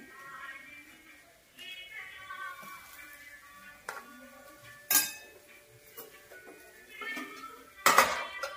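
A spoon clinks and scrapes against a plate and pan while almond sheera is served, with soft scattered taps and two sharper metallic clinks near the end, close and fairly quiet.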